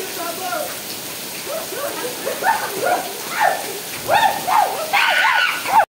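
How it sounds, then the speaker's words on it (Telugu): Steady heavy rain hisses throughout at an outdoor campfire while someone speaks excitedly over it, his voice rising and falling above the downpour. "మస్తు కుమ్మ పడుతుంది వర్షం"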